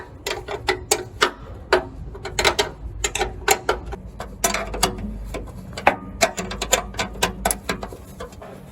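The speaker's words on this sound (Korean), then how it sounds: "작은 기아 아래쪽에 너트를 살짝 풀러주시면" A small nut under the timing belt tensioner of a PTX 220 HD machine is loosened by hand with a ratchet wrench, making rapid uneven clicking bursts close by throughout, with no talk.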